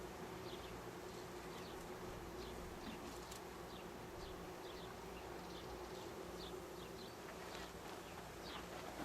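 Honey bees hum in a dense, continuous swarm buzz during a beehive inspection, close and steady, with individual bees zipping past now and then.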